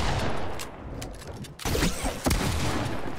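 Rapid Fortnite gunfire in a close-range battle, dense bursts of shots and cracks filling the first second and a half, then more scattered nearby shots and impacts continuing after a brief dip, loud throughout with no speech.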